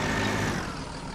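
Fortschritt ZT 303 C tractor engine in Farming Simulator 2015, a steady loud running drone with no breaks.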